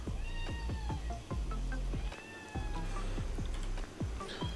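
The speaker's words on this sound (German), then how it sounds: "Katze beschwert sich" An indoor cat meows repeatedly in a complaining tone while rain falls outside, giving a rapid series of short, loud, insistent cries close by, with no talking.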